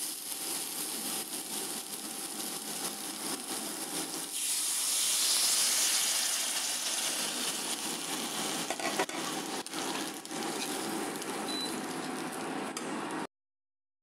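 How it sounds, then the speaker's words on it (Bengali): Water hits a hot pan of fried rohu fish pieces, raw plantain and potatoes, bursting into a loud, steady hiss of sizzle and steam that swells after a few seconds and fades away before cutting off at the end. "এবার ভিতরে জল দিয়ে দেবো"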